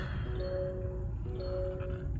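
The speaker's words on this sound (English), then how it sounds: "seatbelt chimes that you will ever experience. It's not annoying at all." Two soft, steady electronic seatbelt chime tones sound in sequence over a low engine hum inside a 2025 Mazda CX-70 Turbo S.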